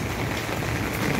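Rain falls on a garden of adenium plants in a steady, dense patter of drops on leaves and surfaces, close and continuous, with no voices.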